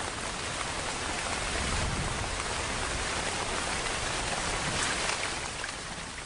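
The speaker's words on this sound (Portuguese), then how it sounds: "Em algumas áreas, 3 metros de chuva vão cair em poucos meses." Heavy rain pouring down in the Amazon rainforest, a dense, loud, unbroken hiss of drops on foliage with no voices.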